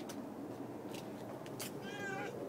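A cat outdoors gives a short meow near the end, close by, with a few faint rustles and brief noises around it.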